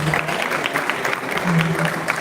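A short burst of audience applause at a gathering, dense and close, with faint voices mixed in beneath the clapping.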